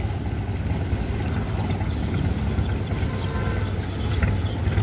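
Boats and barges moving through a congested canal around a sunken barge, with a steady low engine rumble and water wash heard from a small boat, continuous and fairly loud.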